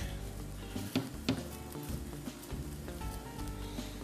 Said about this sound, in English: we're just gonna tilt it right into the flame and get a nice little fire